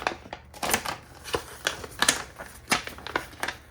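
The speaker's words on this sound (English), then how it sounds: "we are going to just peel this off a little bit" A sticker is slowly peeled off a page in an Erin Condren dashboard planner, giving a close run of irregular crackling ticks and small tearing snaps, quiet and alone.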